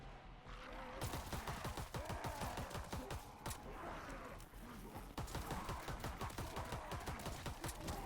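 Rapid bursts of gunfire from a gun in Call of Duty, The Darkest Shore map, run close and loud almost the whole time, with quieter moments at the start and around the middle.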